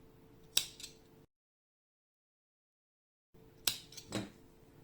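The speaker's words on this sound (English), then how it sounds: "Okay, I can cut them now." Scissors snip through crochet yarn at close range: a crisp cut, a stretch of silence, then another sharp snip followed by a softer second cut.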